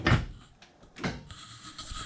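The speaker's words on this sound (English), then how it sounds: "I'll just open the door." A Mazda Miata car door opens nearby with a short latch clunk, then a second thud about a second later, followed by a faint steady hum.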